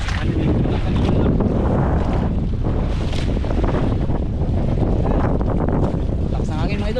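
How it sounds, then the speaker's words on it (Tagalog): Strong wind buffets a fishing boat out at sea during longline fishing, a loud continuous roar with gusting rushes and water noise, while voices speak faintly underneath. "Lakas ng hangin mga idol."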